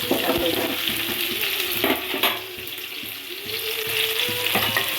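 Chopped onions and tomatoes with salt sauté in a pan for a kara kuzhambu, a continuous moderate sizzle broken by scraping stirs at an even, unhurried pace.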